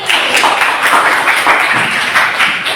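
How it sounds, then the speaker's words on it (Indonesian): Classroom applause repeated for a student group, steady dense clapping from many hands, loud and close, alone without talk. "Tepuk tangan yang meriah dong sekali lagi."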